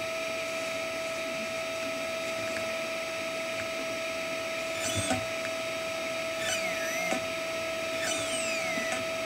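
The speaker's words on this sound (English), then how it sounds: "We're going to give it some throttle." An RC car's electric motor, waterproofed with Corrosion X HD, whirs with a steady tonal hum, and its whine sweeps up and down in short bursts as throttle is applied.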